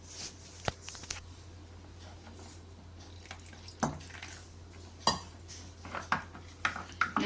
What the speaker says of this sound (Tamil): ஒரு கப்பில் ரெண்டு ஸ்பூன் கார்ன்ஃப்ளவர் எடுத்திருக்கேன் அந்த கார்ன்ஃப்ளவரை தண்ணி ஊற்றி நம்ம என்ன பண்ணிக்கலாம்னா கரைச்சி எடுத்துக்கலாம்